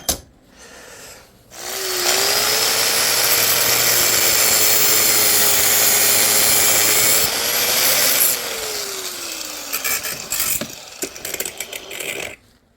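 An angle grinder cuts or grinds at a boat part held in a vise during boat repairs, running loud and steady for about six seconds, its pitch sagging and rising before it spins down, amid quieter handling noises.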